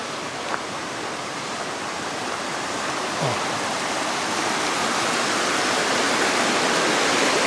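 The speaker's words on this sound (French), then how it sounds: "c'est le débit de la cascade" A waterfall pours down in a gorge, giving a steady, broad rushing roar that slowly swells over several seconds, with no voices.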